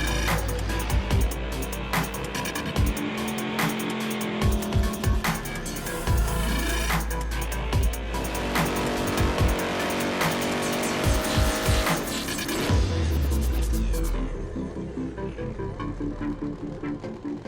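Drag racing cars do burnouts at the Mopar Euronats, roaring engines and screeching tire squeal sustained loud and close, with revving surges and a car pulling away near the end.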